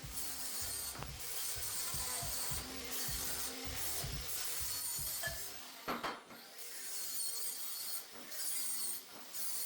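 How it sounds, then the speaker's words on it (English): A flap disc on an angle grinder works the cut end of a steel pipe for a strongman circus dumbbell handle, a steady abrasive rasping hum with a brief pause in the middle, close and continuous. "I like to give it a little bit of a grind with a flapper disc just to clean it up"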